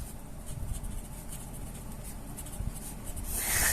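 A Kanwrite fountain pen nib scratches quickly across paper in fast, close, repeated strokes, with a rising rustle near the end.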